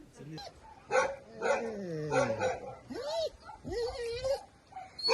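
A dog barks and yips several times in quick, irregular bursts, with whimpering pitch slides between them, fairly close.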